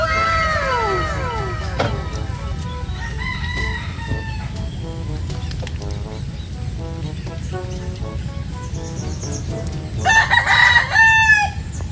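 Several roosters crow in turns, one close and loud at the start, others fainter in the background, with another strong crow near the end.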